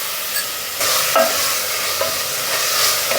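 Spice paste frying in a pan as tomato goes in, with steady sizzling and stirring scrapes throughout, close and moderately loud, with no talking.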